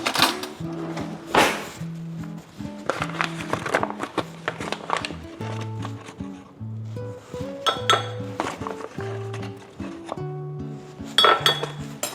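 A metal spoon clinks and knocks repeatedly against a mixing bowl, with bright ringing tones and irregular clattering bursts up close over about twelve seconds.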